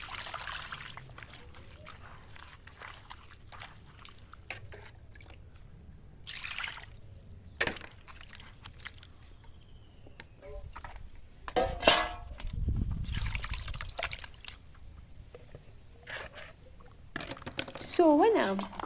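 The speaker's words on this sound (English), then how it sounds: "using water to extract the pulp and then sieve it" Water trickles and pours through cotton seed pulp being sieved for Nigerian cotton seed soup, with intermittent splashes, drips and a few clinks of a bowl or pot, close by and uneven.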